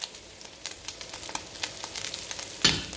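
Picadillo of ground meat with vegetables, seasoned with garlic, pepper and bouillon, frying in a pan: a soft, constant sizzle with small pops, and a sharper scrape of stirring near the end.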